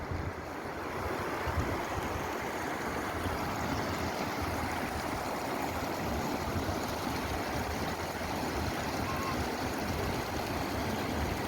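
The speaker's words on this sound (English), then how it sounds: "This is a glacial waterfall. You can see mist mixing with the air, and there is runoff water going down." The glacial Sissu waterfall and its runoff in the Lahaul Valley of the Himalaya make a continuous, dense rushing roar. It stays steady and even throughout, with no voices over it.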